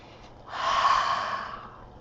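A single long, airy inhale through the nose sniffing crayons, close up, swelling and then fading over about a second and a half, with no talking.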